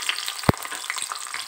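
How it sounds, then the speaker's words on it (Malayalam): Onion sautés in hot oil in a pan after chilies were fried, giving a steady close sizzle with crackling and one sharp knock of a utensil against the pan, no voices. "മുളക് വറുത്തെടുത്തതിന് ശേഷം നമുക്ക് ഈ ഉള്ളിയും കൂടെ ഇതിലോട്ടിട്ട് ചെറുതായിട്ടൊന്ന്"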